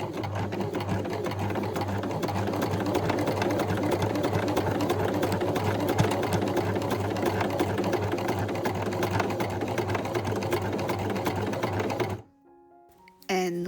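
Sewing machine running a straight stitch on men's shorts, a fast steady mechanical whirring and needle clatter, close and loud for about twelve seconds before stopping abruptly.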